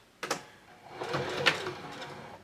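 A sewing machine backstitches a quilt seam, running in a couple of quick bursts followed by a longer whirring stretch, faint and close.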